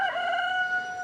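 A rooster crows a loud, drawn-out, tonal call close by in a chicken yard, alone and clear for about a second.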